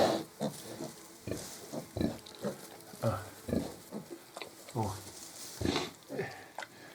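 Piglets grunting and snuffling in short, repeated bursts close by on a small pig farm, with light rustling between grunts.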